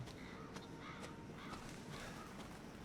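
Crows cawing in Resident Evil 7, several rough caws spread across the moment over a low ambient background, moderately distant, no talk.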